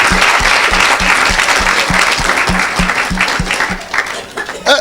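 A congregation at an evangelistic church service bursts into loud, sustained applause, with rhythmic clapping pulses and crowd voices mixed in.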